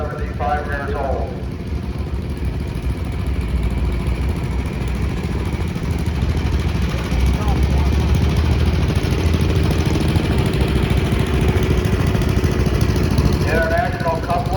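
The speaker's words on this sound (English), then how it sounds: "Alice Chalmers Model WD built in 1950, owned and operated by Dave Lamb of Conneautville." A 1950 Allis-Chalmers Model WD tractor rolling past in an antique tractor parade, its engine a steady mid-pitched chug running continuously under a loudspeaker announcer's voice.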